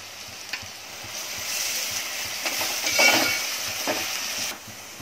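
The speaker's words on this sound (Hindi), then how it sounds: "प्याज को थोड़ा गुलाबी करूंगी" Onions fry in hot oil with curry leaves for bhuna mutton masala, a busy sizzle that swells as a spoon stirs and scrapes the pan, close and steady before easing at the end.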